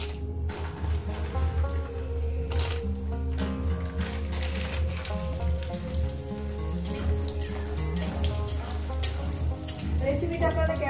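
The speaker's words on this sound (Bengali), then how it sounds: "প্রথমে আমি বড়িগুলো ভেজে নেব। তেল আমার গরম হয়ে গেছে।" Bori lentil dumplings frying in hot oil in a kadai, a continuous soft bubbling sizzle with occasional light clinks, moderately close and fairly faint, no talk over it.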